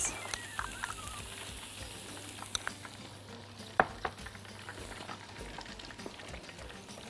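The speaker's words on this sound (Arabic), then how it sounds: "واخلط المكونات كويس قوي مع بعض على السخن كده لغاية ايه ما تسيح خالص" A sour cream and cream cheese dip stirred over heat in a pan, a faint steady scraping and gentle bubbling with a few small clicks of the utensil against the pan.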